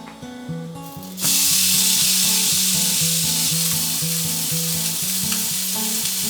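Steak searing in a smoking-hot cast iron pan on very high heat: a loud, steady sizzle bursts in abruptly after about a second and holds strong to the end, with background music underneath.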